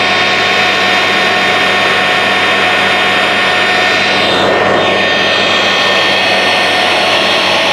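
John Deere 9620R tractor with a 620-horsepower engine, fitted with triple tires and pulling a 60-foot air drill in a field: a loud, continuous engine roar with a whining tone that swells and shifts as the machine passes close by.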